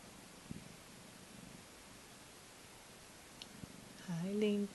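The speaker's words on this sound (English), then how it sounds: "And they're purring really loud." Two kittens in a rotating bowl purr softly and steadily throughout, a quiet rumble with faint rustling and a couple of clicks, then a brief higher tonal sound rises near the end.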